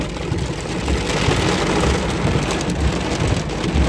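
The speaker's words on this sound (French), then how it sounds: "Ouais, il y a des petits grêlons" Small hailstones and graupel fall during a hailstorm, making a dense, continuous rattling patter on surfaces, steady and fairly loud, with no voices.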